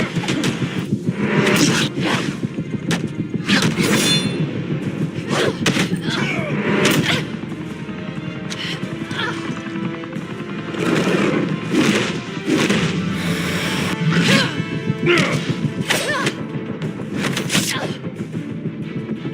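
Repeated punches and heavy thuds land in a Batman video game brawl, dense rhythmic impacts and crashes over busy game audio, with voices talking throughout.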